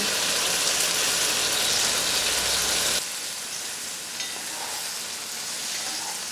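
Peppers and tomatoes sizzle and fry loudly in a pan with a steady hiss, which drops to a quieter simmering crackle partway through.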